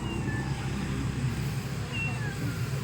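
A cat gives a couple of faint meows beneath a steady hum of ambient noise, with brief chirps at the start and near the end.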